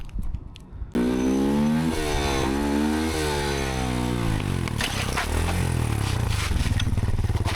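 A CFMOTO stunt bike revs hard while being ridden, its engine note climbing and falling in repeated sweeps, loud and close throughout with a constant rough roar.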